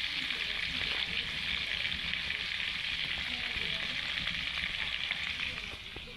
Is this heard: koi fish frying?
yes